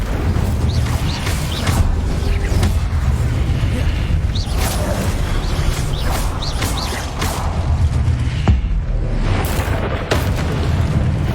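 Fire spells crackle and burst in the Hogwarts Legacy video game, a dense run of whooshing blasts and booming impacts layered over continuous game ambience and music, loud and busy throughout.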